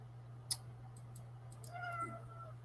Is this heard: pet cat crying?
yes